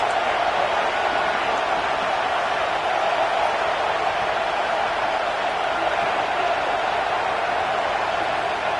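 Stadium crowd in a college football video game roars in a continuous, dense wash of cheering and noise, loud and unbroken throughout, without clear speech on top.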